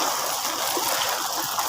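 Floodwater rushes steadily along a flooded street or path, a continuous broadband wash of flowing, churning water heard up close with no voices.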